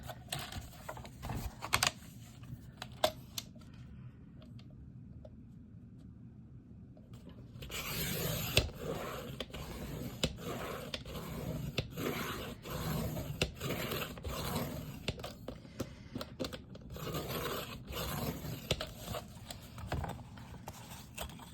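A piece of paper is cut for a junk journal, giving close, steady scraping and slicing strokes that start quietly and grow fuller and continuous partway through, with no talking.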